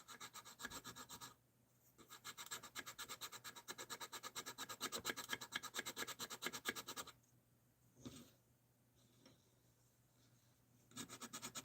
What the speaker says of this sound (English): break out the 220 grit stick